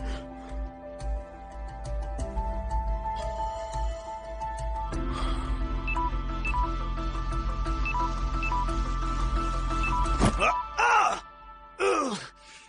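A mobile phone rings with a repeating electronic tone in a Korean drama scene dubbed in Hindi, partly under music, groans and other voices, before sharp bursts of noise near the end.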